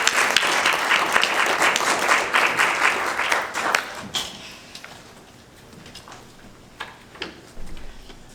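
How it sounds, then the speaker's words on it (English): Audience applause at a symposium and celebration for a guest called Mr. Reedham, a dense burst of clapping for about four seconds that thins to scattered claps and then near silence. "Can we give a round of applause to Mr. Reedham?"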